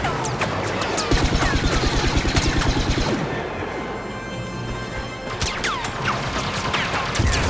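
A grenade blast and gunfire in the Star Wars Battlefront beta: sharp, loud cracks and crashing bursts come in quick clusters, ease briefly into a rumbling lull, then erupt again in more sharp shots near the end.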